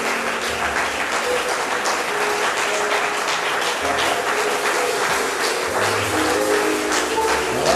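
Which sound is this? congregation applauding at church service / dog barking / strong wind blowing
congregation applauding at church service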